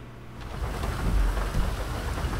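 Steady video game rain hisses with a low rumble of thunder rolling underneath, no voices.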